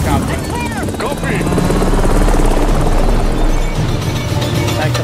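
A loud, close helicopter drone in Call of Duty: Modern Warfare 3 with a pulsing rotor beat runs throughout, with a voice speaking over it.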